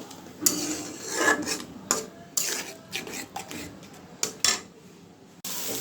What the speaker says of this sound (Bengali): মশলাটাকে আমি ভালো করে কষাবো